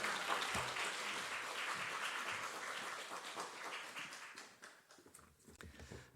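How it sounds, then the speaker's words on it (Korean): Crowd applause welcoming a pastor at a church monthly prayer service, steady dense clapping that thins and fades toward the end, with no cheering standing out. "우리 목사님 나오실 때 큰 박수와 함성으로 환영합니다"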